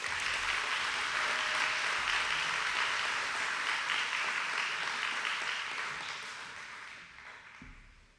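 An audience at a community impact awards ceremony applauds steadily, a dense wash of many hands clapping that holds evenly before fading out toward the end.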